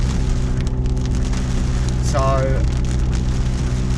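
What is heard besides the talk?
heavy rain pouring down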